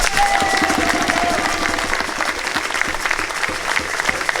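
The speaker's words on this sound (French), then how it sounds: "on peut les applaudir aussi" A congregation applauds parishioners at the closing Mass of a 2024 pastoral visit, sustained clapping filling the room, with a faint whistle-like tone early on.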